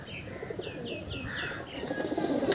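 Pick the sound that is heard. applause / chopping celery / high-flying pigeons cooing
high-flying pigeons cooing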